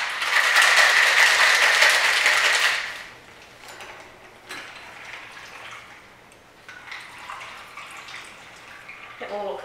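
A cocktail shaker full of ice and skinny margarita rattles in a vigorous, dense shake for about three seconds, then gives way to quieter clinks and handling noises.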